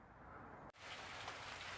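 Rain falls at an allotment, heard from inside a greenhouse as a steady soft hiss of drops on the roof, close and constant with a brief cut midway.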